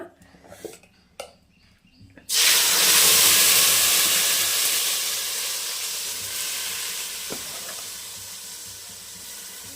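Tamarind paste for fish curry hits hot oil with a sudden loud sizzling burst after a couple of quiet seconds, then a strong steady hiss that slowly eases off.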